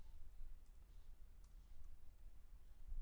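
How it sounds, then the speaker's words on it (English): A computer mouse clicks a few times, soft and close, in short isolated taps against a low, steady background hum with no talking. "So I'm clicking on file,"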